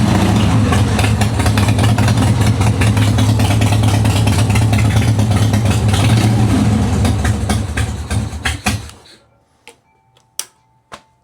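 A 1985 Harley-Davidson FXWG with a CV40 carburetor idles in a loud, rumbling, loping beat close by for several seconds before the engine cuts off, leaving a few faint ticks and clicks.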